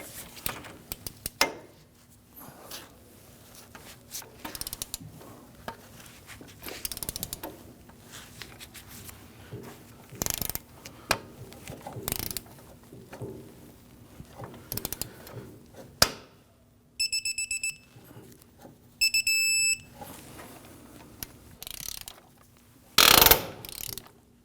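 A ratchet tightens the strut-to-knuckle bolts on a 2010-2019 Ford Taurus during front strut and spring replacement, giving repeated short bursts of clicking pawl sounds separated by pauses, close and fairly faint.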